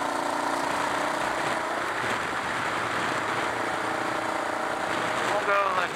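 Kawasaki KLR650 supermoto motorcycle riding, its engine droning steadily and loudly throughout with a slight rise in revs near the end.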